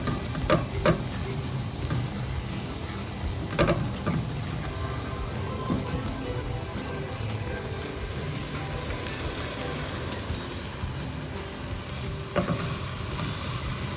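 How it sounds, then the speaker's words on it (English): Peppers sweat in a hot pan with a continuous close sizzle, loud and even, broken by a few sharp clatters of a utensil against the pan; nobody speaks. "And we'll just throw our peppers in. Now we wanna sweat these down for about a minute or two."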